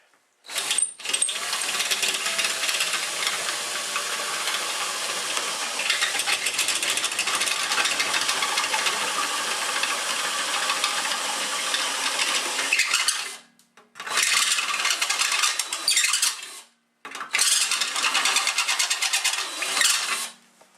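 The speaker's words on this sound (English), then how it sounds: "here's our handy step drill" A step drill whines steadily while cutting holes, continuous grinding for over ten seconds, then two more shorter bursts after brief pauses.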